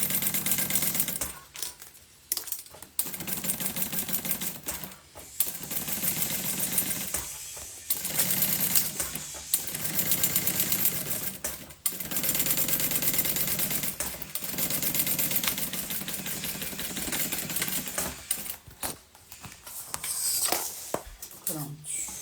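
A sewing machine stitches a seam on a montana-fabric document holder in fast mechanical bursts, stopping and restarting several times with brief pauses between runs.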